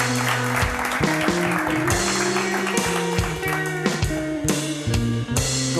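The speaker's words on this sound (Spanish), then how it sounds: "Un aplauso para Carlos." An audience applauds Carlos at a talk event, a dense wash of clapping blended with loud stepped tonal music that plays throughout.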